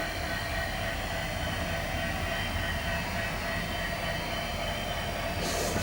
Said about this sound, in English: So we'll run a train and make sure that the train crosses over.